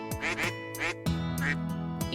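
Ducks quacking in a rapid run of loud, nasal calls, several overlapping nearby with a steady low hum beneath, no speech.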